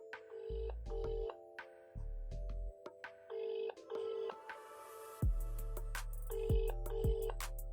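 Outgoing call tone from a BEATXP Vega smartwatch, repeated electronic beeps and tones in short bursts followed by a brighter ringing pattern, fairly faint and close, with no talking over it.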